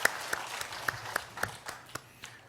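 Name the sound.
congregation applause in church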